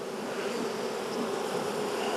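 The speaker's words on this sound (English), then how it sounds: "I got bees all over my camera. I got bees all over me." Honeybees swarm right against a beekeeper's camera during hive work on swarm cells, giving a dense, continuous close buzz with no voices.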